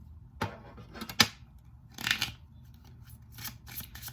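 Tarot cards are drawn and laid down, giving a few sharp close-up papery snaps and swishes in irregular bursts against a quiet background, with no voices.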